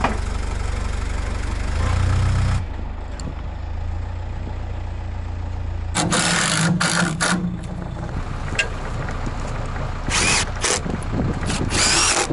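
A power drill drives screws into standing seam metal roofing on a house build, with loud bursts of whirring spin that start and stop, a longer run early and several short pulses later, all close by.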